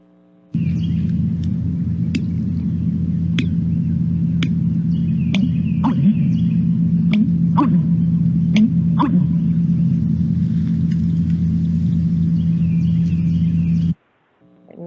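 A bittern's call: a deep, low booming pump repeats steadily over a constant rumble, with several sharp clicks scattered through, then it cuts off near the end.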